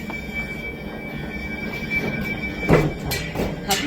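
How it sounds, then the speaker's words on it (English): A train rolls past at a station between Reading and Basingstoke, a steady rumbling drone with clattering wheel bursts and brief squeals toward the end, moderately near. "It's a train."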